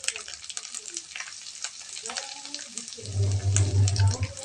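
Fish curry with salt, turmeric and chili powder stirred in a frying pan, starting with faint scraping and clinks, then turning into a louder hissing sizzle near the end.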